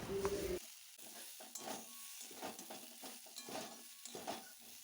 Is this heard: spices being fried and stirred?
yes